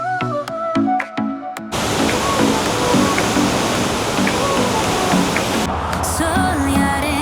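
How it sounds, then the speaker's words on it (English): The Dubai Canal waterfall fountain cascading, a dense continuous rush of falling water that starts abruptly after a brief burst of music, with music returning faintly near the end. "Dubai water fountain"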